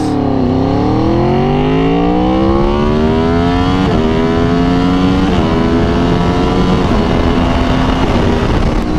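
A motorcycle engine hums steadily while riding through slow U-turns, its pitch sweeping down and then climbing in repeated waves as the rider throttles on and off. The sound is close and continuous, with no talking.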